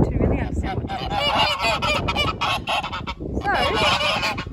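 Geese honk loudly and repeatedly at close range on a farm, a noisy overlapping flock calling almost continuously.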